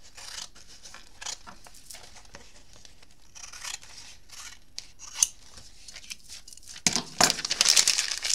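Scissors trim excess paper from a memory book page: a run of close, crisp snips and paper crinkling, ending in a louder flurry of cutting and rustling, with no talk.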